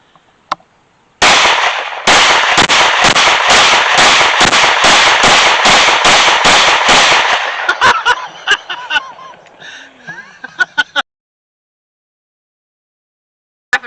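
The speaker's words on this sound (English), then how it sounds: "Rapid fire." A Glock 19 pistol fires a rapid string of about fifteen loud, sharp shots in quick succession, followed by several scattered shots and echoing clatter before silence.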